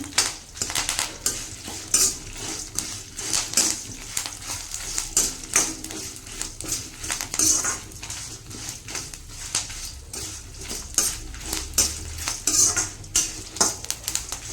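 Coriander and cumin seeds dry-roasting in a pan, stirred steadily with a spoon, giving repeated close metallic scrapes and clinks over a faint crackle.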